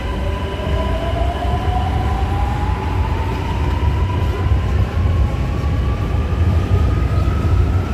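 A Shenzhen Metro Line 4 train moving off, its motor whine rising steadily in pitch over a loud, constant rolling rumble.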